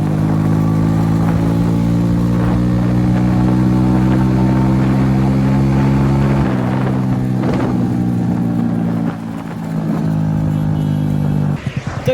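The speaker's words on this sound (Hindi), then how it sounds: "फिलहाल अब बाइक की टेस्ट ड्राइव लेते हैं" Honda CD 70 cafe racer motorcycle idling loudly and steadily nearby during a test ride, its engine drone shifting as the throttle changes and fading briefly near the end.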